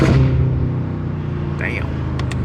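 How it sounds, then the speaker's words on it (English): A BMW M car engine and intake roar, loud at first and then settling into a steady, throaty rumble, with a short high chirp partway through and faint talk under it. "That shit sounds hard."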